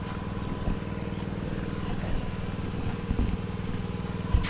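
A steady, low-pitched irrigation pump engine chugs continuously in light rain on a farm, with an even mechanical drone and faint patter around it.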